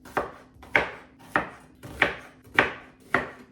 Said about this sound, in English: let's cut the onions as well